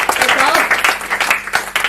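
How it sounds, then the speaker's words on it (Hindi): Audience at a Hindi comic poetry gathering bursting into loud, close applause for a poet, a dense, steady clatter of hands with voices mixed in over it. "जोरदार तालियां।"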